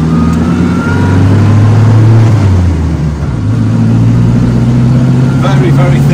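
Old Renault 4CV engine pulling away from a junction, a steady mid-pitched drone that rises in pitch as it accelerates through the gear, close and continuous throughout.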